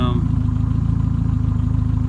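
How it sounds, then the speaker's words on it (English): A car engine tuned with Megasquirt idles steadily and close by, a loud, even mid-pitched throb with a regular pulse and no talking over it. "Alright, so the car looks like it's actually running good."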